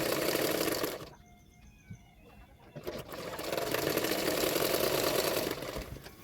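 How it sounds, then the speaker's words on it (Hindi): A sewing machine stitches along the edges of a blouse belt, running in a steady whirring burst, stopping briefly for a couple of seconds, then starting again for a longer continuous run, close by. "दोनों पार्टों को मिलाना है और किनारे किनारे पे सिलाई डालते जाना है"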